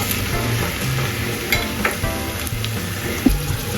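Chopped onions and raw field beans frying in a pan, a dense continuous sizzle with a few stirring knocks and scrapes, close and steady, no voices.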